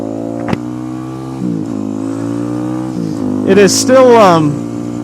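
Motorcycle engine droning and revving while riding, its pitch rising and falling with the throttle, close and loud, with a rider talking over it.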